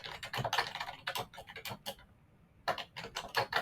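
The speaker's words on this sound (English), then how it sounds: "I'm just typing in some examples here for my handout" Rapid clatter of a computer keyboard as a teacher enters examples for a class handout, close and fairly loud, in uneven bursts with a brief pause midway.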